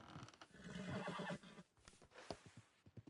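A horse in Red Dead Redemption 2 lets out a faint, drawn-out whinny, followed by a few scattered hoof clops at a distance.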